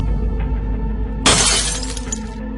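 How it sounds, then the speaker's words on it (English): A glass vase holding flowers falls to the floor and shatters: one sudden, loud crash of breaking glass followed by about a second of scattering shards, then quiet. "The glass vase fell to the floor, making a very loud sound."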